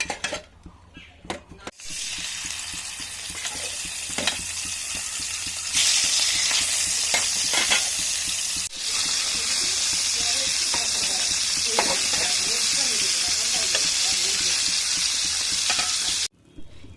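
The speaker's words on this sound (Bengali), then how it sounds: "এবার আমি এক পিস করে মাছগুলোকে ভেজে নেব ভালো করে।" Salted, turmeric-coated pieces of snakehead fish fry in hot oil in a wok, giving a loud, continuous hiss and sizzle with occasional spattering pops and scraping stirs, then a sudden cut to near silence at the end.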